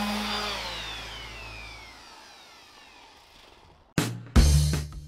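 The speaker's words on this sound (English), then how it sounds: "putting very light pressure on the sander" A power sander works the finish off a wooden Duncan Phyfe-style side table under very light pressure, a steady droning whine that gradually fades, then two short loud bursts as the tool restarts, close up with no talking.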